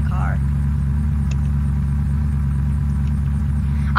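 A car in the video game Unturned drives along with a steady, loud mid-range engine drone and low rumble, continuous for the whole stretch; talk sits over it.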